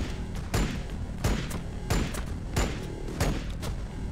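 Gunfire in the Warhammer 40k Battlesector strategy game, a series of sharp booming shots and thuds at roughly regular intervals, loud and punchy with no talk.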